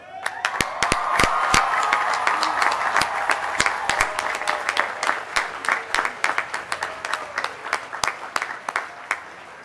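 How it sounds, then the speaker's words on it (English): A graduation commencement audience applauding, dense clapping that starts loud and gradually thins into scattered individual claps as it fades. "please join me by standing and giving those people a well-deserved round of applause."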